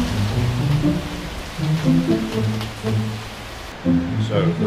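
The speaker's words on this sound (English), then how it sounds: "So the rain's so heavy now, you can probably barely hear what I'm saying." Heavy tropical rain pours down at Phu Tok Temple in Esan, Thailand, a dense, constant hiss of drops on the surfaces nearby, with a voice talking faintly underneath.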